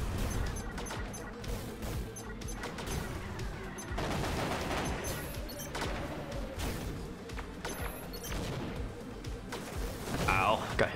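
Battle rifle fire in a mech combat video game: rapid bursts of shots, crashes and booms in a dense, continuous barrage, with a person talking over the game sounds.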